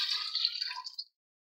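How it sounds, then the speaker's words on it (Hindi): A bowlful of water splashes into yogurt in a large pot while lassi is being made. It comes as a short, bright, close pour lasting about a second and then stops dead, with no talking. "और इसमें एक बाउल भर के पानी डालेंगे।"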